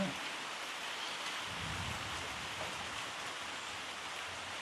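Steady, even rain hiss filling the whole clip, a constant wash of falling drops with no voices, close and continuous.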